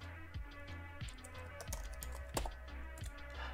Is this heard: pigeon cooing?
no